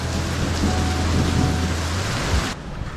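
A heavy downpour of rain roars loudly and steadily close by during a fierce rainstorm in Korea, a dense hiss with low rumbling underneath, easing slightly near the end.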